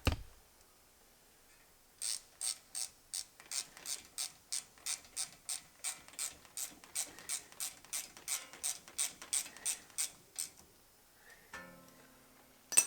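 A hand ratchet tightens an 8 mm bolt on a 2018 Ford F150 wheel-hub bracket, giving a quick run of about twenty crisp, evenly spaced clicks, close and clear in an otherwise quiet space.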